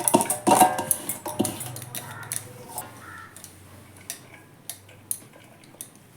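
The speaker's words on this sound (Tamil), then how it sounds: "ஒரு பெரிய பாத்திரத்தில் நெல்லிக்காவை போட்டுக்கலாம்." Gooseberries dropped into a big vessel for homemade mukwas, a few clattering knocks against the pot at first, followed by lighter, sparse ticks and taps, close and fairly quiet.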